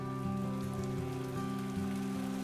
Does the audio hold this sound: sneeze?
no